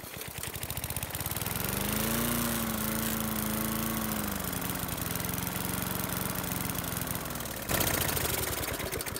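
A Home Hardware Land Mark 20-inch bagger lawn mower with a flathead engine is pulled and starts at full throttle, running loud and steady with a rattling chug, close by.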